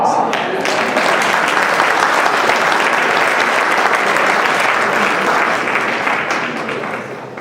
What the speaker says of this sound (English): Would you please join me in giving them the round of applause?